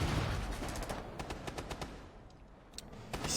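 Rapid gunfire bursts crackle during a competitive Rainbow Six Siege esports match, with a quick run of shots in the first half followed by a few scattered reports.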